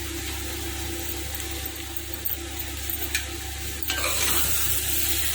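Cooked rice is stirred into mint paste in a pan over a low flame, a steady sizzling hiss with soft scraping strokes that grow busier toward the end, over a low background hum, with no talk.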